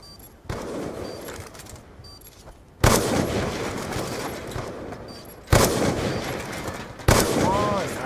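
Light machine gun fire in a first-person shooter match, with heavy bursts of gunfire hitting hard in several loud onsets and sustained rattling in between, dense and close.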